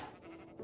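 Sheep bleating in Minecraft Bedrock Edition, a single short, faint digital bleat standing alone.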